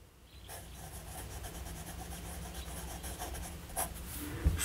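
A Dollar 717i fountain pen with a hard, short steel nib writes on paper, making a soft, continuous close scratching rustle with a few faint taps, heard alone.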